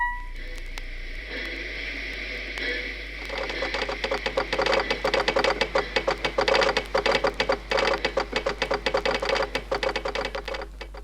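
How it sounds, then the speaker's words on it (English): A Morse code message being sent, heard as a long run of rapid, evenly spaced clicking pulses over a steady low hum, starting faintly and growing busier and louder. "That was the sound of a message being sent in Morse code."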